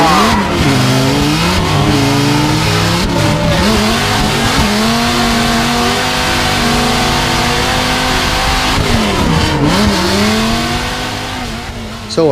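V8 and V10 supercharged drift cars at a Formula Drift Orlando event launch and rev, loud and close, their engine pitch climbing and falling in repeated sweeps over a constant roar with tire noise.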